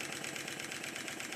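A Stuart Triple model engine runs slowly on low pressure, giving a faint, steady rhythmic chuffing and ticking beat with no voices.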